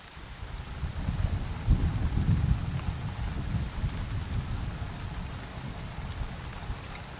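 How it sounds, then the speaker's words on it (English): Steady rain pours through a thunderstorm in the stealth game Splinter Cell: Chaos Theory, a dense hiss with a low rumble swelling near the middle of the stretch and no voices. "Thunderstorms make me nervous."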